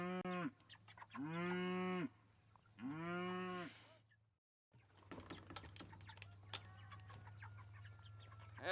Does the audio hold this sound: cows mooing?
yes